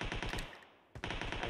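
Shotgun fire in a battle royale video game, heard as rapid, loud repeated blasts that pause briefly before a fresh burst of close shots.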